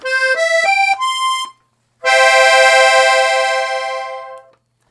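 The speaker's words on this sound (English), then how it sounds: "Here I have a beautiful Lombardi accordion." Treble keys of a cream Hohner Lombardi piano accordion play: a short run of separate notes, a pause, then a sustained full chord that fades out.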